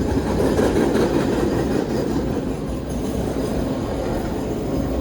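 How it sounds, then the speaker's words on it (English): A train rolls by close and loud near Hennepin Canal Lock 21 campground, a dense rumble of wheels and rattling cars that holds steady throughout with no voices. "So this is the train you see every night."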